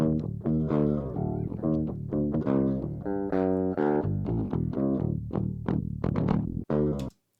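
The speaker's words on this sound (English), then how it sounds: "And this is the DI tone that got sent to us." Clean, unamplified DI signal of an 8-string guitar playing a djent riff, with choppy palm-muted low chugs and sustained chords in a fast, syncopated rhythm, ending abruptly.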